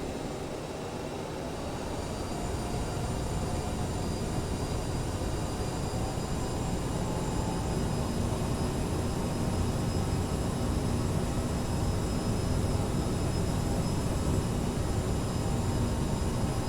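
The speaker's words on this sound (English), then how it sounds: "Let's start taxiing to the runway." A CRJ 900 regional jet taxis toward the runway, its engines producing a constant loud whine and roar from inside the cabin, steady and unbroken with no voices.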